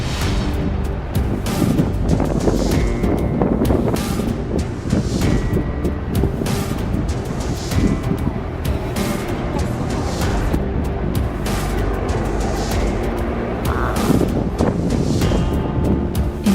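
Storm-force wind of around 100 km/h buffeting a ship off the French coast, a loud continuous roar and rush with gusting surges and crashing sea, steady throughout.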